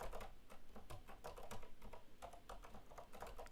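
Keyboard shortcuts are tapped out on a computer keyboard during live coding of an Advent of Code 2023 puzzle: rapid, close clicking keystrokes in uneven bursts with no voices.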